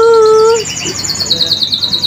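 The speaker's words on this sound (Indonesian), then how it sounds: "dengerin deh guys ada suara burung guys cicit cicit cicit cicit" Small bird chirping outdoors in a garden during a toy hunt, a short series of high, thin tweets that trail off, then fainter chirps with light background noise.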